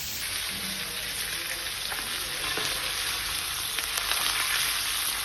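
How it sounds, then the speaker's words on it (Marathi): Whole pomfret (paplet) fish fry in a hot pan with a steady, dense sizzle and crackle, continuous and close throughout, with a few sharper pops and no talking. "सर्व पापलेट तसेच पलटून घेऊया आणि त्या बाजूने शिजवून घेऊया।"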